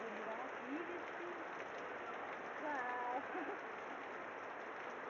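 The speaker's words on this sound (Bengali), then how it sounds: "প্রচন্ড বৃষ্টি হচ্ছে।" Heavy summer rain pouring down steadily, a dense, continuous hiss of drops on surfaces throughout, with faint voices and birds barely audible beneath.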